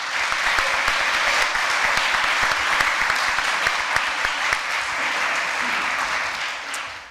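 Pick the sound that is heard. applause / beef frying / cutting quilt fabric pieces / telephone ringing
applause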